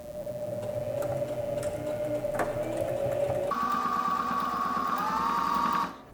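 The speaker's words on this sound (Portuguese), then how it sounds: "Aí, tu vai baixar o calcador e aí aqui tu vai vir costurando, pode fazer o retrocesso." A sewing machine stitches patchwork fabric with a steady mechanical whir up close. Its pitch jumps higher midway through, then it stops abruptly near the end.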